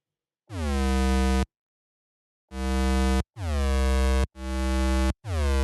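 Four sustained tones from a discoDSP OB-Xd software synthesizer with a bright, buzzy harmonic stack, separated by gaps; some start abruptly while others swell in more gradually as the amp envelope changes, then hold steady.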